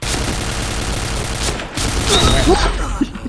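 Dense, loud gunfire from the online shooter game Point Blank, including sniper shots: a continuous barrage of rapid close shots with heavy booming bursts, rolling on without pause.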